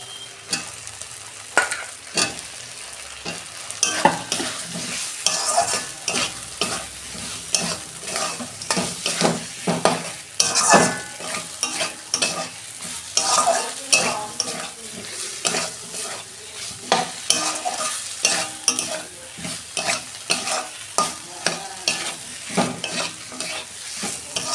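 Potatoes stirred and fried in a cooked spice paste with a little tomato for a mango fish curry, a steady loud sizzle under constant scraping strokes of a spoon against the pan.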